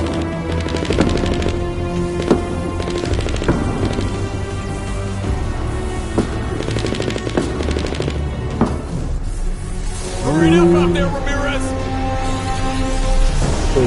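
Rifle fire rings out in the Fortnite Save the World video game, a run of sharp, regularly spaced shots over a loud game soundscape, with a brief rising electronic effect near the end.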